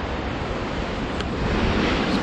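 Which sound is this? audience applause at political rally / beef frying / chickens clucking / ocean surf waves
ocean surf waves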